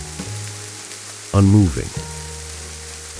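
Steady rain falls on a rainy night, a soft continuous hiss that stays in the background beneath a voice speaking throughout.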